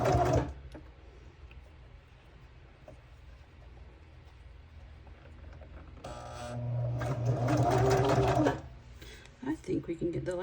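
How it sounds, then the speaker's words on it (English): A sewing machine stitches folded paper page trims. After a quiet, fumbling stretch, the needle runs in a fast, loud burst for about two seconds, then a few short stitching spurts close the clip. "Just fold it and sew, fold it and sew, and I make the fold go toward the needle."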